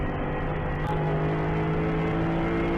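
A Mercedes-AMG GT4 race car engine drones at a steady pitch at NOLA Motorsports Park, a deep rumbling hum with a faint whine, sustained and close without any voices.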